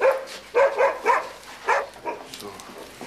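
A dog named Dick gives a series of short barks and yips indoors, fairly close, with no voices.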